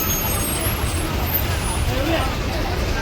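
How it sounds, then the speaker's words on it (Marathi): Steady, dense roar of heavy road traffic on the Bhiwandi–Vajreshwari road, with heavy engines rumbling close by, continuous throughout with no pauses. "फुल ट्रॅफिक"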